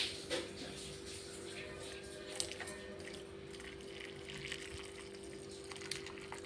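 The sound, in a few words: pouring hot water onto cut beef pieces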